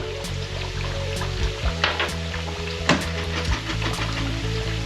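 Saffron threads toast in oil with fried onion, garlic and almond for Spanish porrilla de papas, giving a close, steady sizzle and crackle with a few sharper pops and light stirring sounds.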